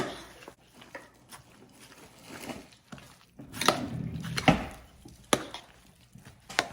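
Herb-seasoned Pepperidge Farm stuffing being mixed by hand for a turkey, irregular soft thuds, scrapes and crumbly rustles close up, with no talking.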